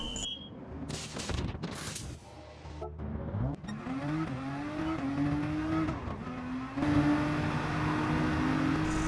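A Nissan GT-R lapping Suzuka in Gran Turismo Sport during a Nations Cup race, its engine revving and rising through gears with brief tire squeals, loud and continuous, with no talk.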